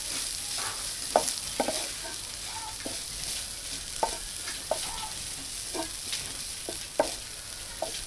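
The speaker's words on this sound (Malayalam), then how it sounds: "നല്ലോണം ഇളക്കി കൊടുക്കണം." Chicken for Chicken Kilikkoodu, boiled earlier with turmeric, water and salt, being stir-fried in a pan. A steady sizzle hisses underneath, broken by repeated scraping knocks of the spoon at an irregular rhythm, close up, with no voices.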